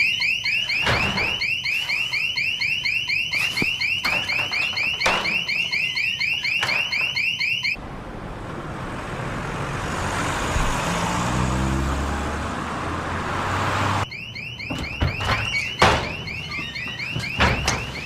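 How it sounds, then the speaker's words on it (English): A car alarm wails in repeated loud cycles of rising and falling tones at a robbery scene, breaking off midway for a stretch of rumbling vehicle and street noise before the alarm resumes. "Set the alarm off."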